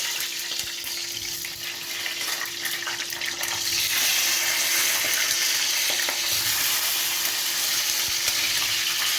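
Charleston peppers frying in hot oil: a steady crackling sizzle that grows louder and denser about halfway through, with occasional stirring clinks and no voices.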